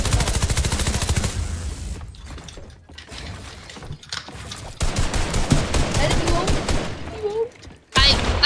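Rapid automatic gunfire from a Fortnite match blasts loudly in a dense burst, followed by scattered shots and mechanical clicks amid game noise, with a voice talking partway through.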